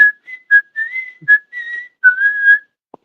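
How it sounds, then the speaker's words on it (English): A person whistles a short, clear, bright tune of several quick notes and a few held ones, close and alone with no other sound around. "can you whistle? I can."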